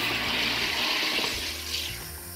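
Tap water runs steadily from a kitchen faucet to fill a reusable SodaStream Terra bottle, a continuous close hiss and splash that eases slightly toward the end, with no voices.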